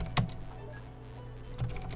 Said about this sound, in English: I typed something wrong.